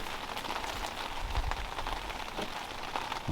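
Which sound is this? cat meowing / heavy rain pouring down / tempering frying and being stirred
heavy rain pouring down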